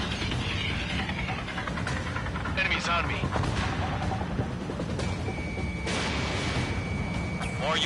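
Missile launches and gunfire in the aerial combat game Ace Combat: bursts of crackling fire and whooshing booms over a constant engine roar, with radio voices talking throughout.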